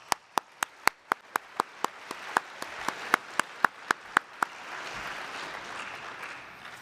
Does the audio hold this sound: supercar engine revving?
no